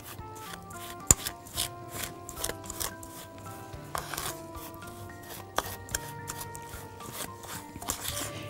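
A spoon mixes crushed biscuit crumbs with butter for a baked cheesecake base, giving soft, close rubbing and scraping strokes with light clicks against the bowl in an irregular, unhurried rhythm.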